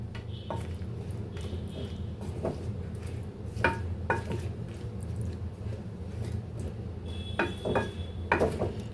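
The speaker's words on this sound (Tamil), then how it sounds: "இப்போ இதை நல்லா மிக்ஸ் பண்ணி விட்டுருங்க" Palak chapathi mixture is stirred in a bowl with a utensil, producing soft repeated scrapes and light clinks against the bowl, close and moderately quiet over a low steady background hum.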